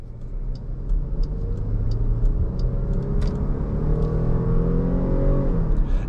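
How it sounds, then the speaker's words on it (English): A 2020 Jeep Grand Cherokee Summit's V6 engine accelerates hard, a steady loud rumble with rising revs and a smooth gear change partway through, heard from inside the cabin with no talking. "and we'll let this V6 sing."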